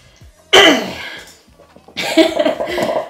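A person coughs close by, two harsh bursts of coughing separated by a short pause, the second longer and raspier, with no speech.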